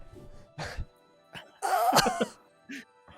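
A woman coughs and gags close up: rough throat-clearing bursts, then a long, strained hacking retch, trailing off into a few smaller coughs.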